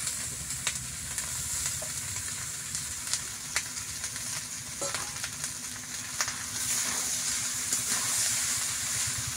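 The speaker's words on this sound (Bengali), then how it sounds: "এই যে ভাতগুলো ছেঁকে রেখেছিলাম সেগুলোকে দিয়ে দিচ্ছি।" Leftover rice and vegetables are stir-fried in a pan for a village-style panta pulao, giving a steady close sizzle and hiss with occasional spatula scrapes and taps that build slightly louder near the end, with no voices.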